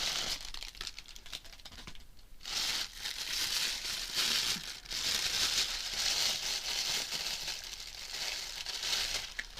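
A plastic bag crinkles and rustles steadily up close during a haul unboxing of air fryer items, with a short pause partway through and no talking.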